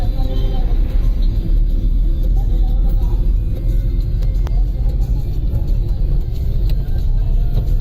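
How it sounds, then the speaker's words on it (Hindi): Heavy road traffic on the Pune–Sinhagad road near Khadakwasla dam makes a loud, continuous low rumble of passing cars and engines, steady throughout with no clear gaps. "जबरदस्त ट्रैफिक"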